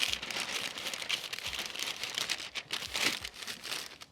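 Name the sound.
masking paper being wrapped around a headlight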